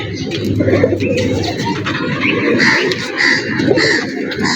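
Pigeons of an old traditional breed coo steadily and close by, many birds overlapping in a dense, continuous murmur of throaty calls with scattered sharper notes throughout.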